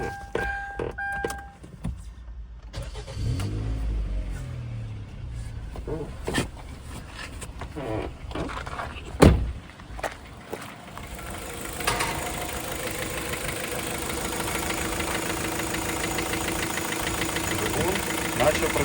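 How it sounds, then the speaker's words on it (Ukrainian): A Kia Carens 2.0 with a G4KA petrol engine and 216,000 km, after its PCV valve has been cleaned, is started outdoors and settles into a steady idle. Someone talks over the running engine. "Зараз будемо заводити двигун і дивитися на результат."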